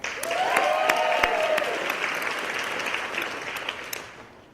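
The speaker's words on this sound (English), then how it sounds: "a round of applause for our 2018 Employee of the Year nominees." Sustained applause from a crowd at an Employee of the Year luncheon for the nominees, steady and fairly loud, fading out toward the end with a few louder claps standing out.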